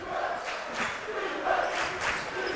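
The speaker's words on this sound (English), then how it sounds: "Butler crowd coming alive" A high school basketball crowd at a Butler home game swells into cheering and shouting, with several rising waves of noise heard from a distance.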